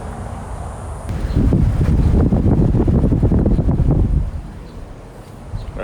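Wind rumbles hard across an unshielded Rode VideoMicro near an outdoor air conditioner, a heavy low buffeting that swells for a few seconds and then eases, with a faint steady hum beneath.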